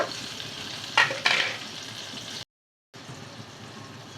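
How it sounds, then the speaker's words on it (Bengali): Steady frying sizzle with a couple of sharp bursts as onions drop into hot oil, then a brief silence before the sizzling continues. "ভাজা তেলের মধ্যে পেঁয়াজ দিয়ে দিচ্ছি।"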